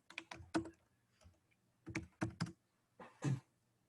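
Bursts of computer keyboard typing in quick clusters of keystrokes separated by short pauses, close and clear with no talking.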